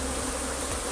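Honeybees buzz steadily at an open hive while propolis is being harvested, a continuous close, dense insect drone filling the short moment with no talk.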